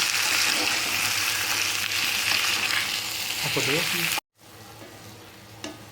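Jaggery stirred into raw mango pieces in a pan for a sweet pickle, with a steady sizzling hiss and scraping stirs close by, cutting out briefly near the end before a quieter bubbling resumes.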